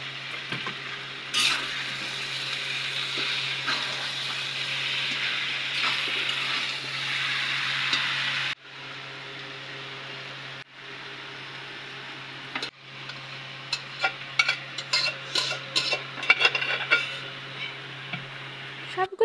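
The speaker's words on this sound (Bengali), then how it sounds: "এখন আমি ভালো করে শাকগুলো নেড়ে দিচ্ছি।" Boiled greens stirred in a frying pan with onion, chili and garlic, giving a steady broadband sizzle for the first half, then quieter frying broken by clicking, scraping spatula strokes near the end.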